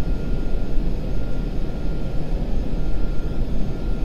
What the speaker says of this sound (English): That's the wind noise I'm hearing on the flaps and gear.